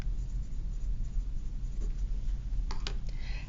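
Pen or marker scratching on paper while labels are written for a landscape collage, a continuous close, soft scratching with a few sharper strokes near the end and no talking.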